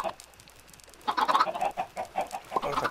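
Chickens clucking in a Minecraft video game chicken farm: quiet at first, then a cluster of close, repeated short clucks and squawks continuing to the end.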